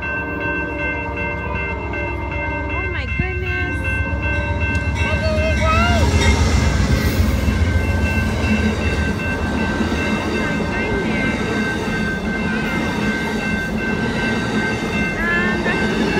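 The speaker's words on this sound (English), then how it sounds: "It's a choo-choo train!" Train rolling past close by, with a steady heavy rumble that swells as it nears, squealing wheels, and a horn sounding near the start. Voices talk over it.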